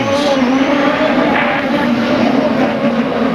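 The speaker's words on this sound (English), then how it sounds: "Revs are up, and he goes." A CART race car from the 2001 Houston round revs hard and pulls away from the pits, a loud sustained engine roar with steady harmonic drone filling the whole stretch.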